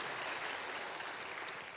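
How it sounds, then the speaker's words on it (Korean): A church congregation applauds at a Sunday evening service to welcome a new choir conductor, a steady, even wash of clapping that holds throughout the short stretch. "여러분 환영의 박수 하시겠습니다"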